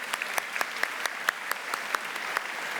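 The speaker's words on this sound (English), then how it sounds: "so give yourselves a round of applause" Audience of several hundred at a philanthropy day event applauding, a steady wash of clapping with distinct sharp claps popping out near the microphone.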